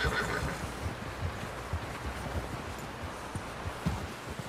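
A horse whinnies in Red Dead Redemption 2 over a steady outdoor rumble, with soft hoof clops scattered throughout.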